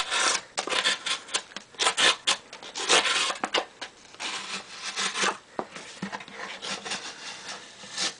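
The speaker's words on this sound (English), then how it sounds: "It is pretty tough to cut through this little double layer of cardboard that's stuck on here" A custom-made knife blade cutting through a glued-on double layer of cardboard gives repeated close scraping and rubbing strokes in an irregular rhythm, with no voices.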